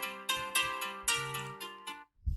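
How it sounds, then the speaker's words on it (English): A mobile phone ringtone plays a bright melodic tune of several repeated chimed notes, clear and close, before cutting off near the end. "forgive me, that's my phone ringing"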